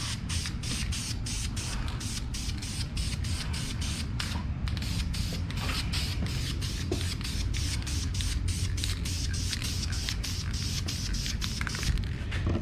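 An aerosol spray can laying a light coat of paint on a small block Chevy engine from a Silverado, a close, loud, continuous hissing spray broken by quick rhythmic pulses as the nozzle moves, with no talking.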